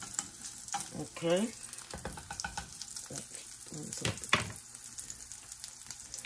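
Food sizzles quietly in a frying pan, with brief stirring and clattering, a short burst of water around one second, and one brief spoken word.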